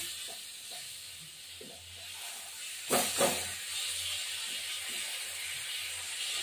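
Fish curry with tomato cooking in a pan, a soft steady sizzle and hiss with a few faint scrapes of stirring and a brief louder clatter about midway, heard close without any talk.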